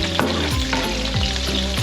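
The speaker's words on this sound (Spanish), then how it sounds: "En este mismo aceite que hemos frito el pollo, vamos a ir friendo las verduras." Vegetables sizzle in hot oil left over from frying chicken for a mushroom rice dish, a loud close crackle with quick stirring scrapes in a pan.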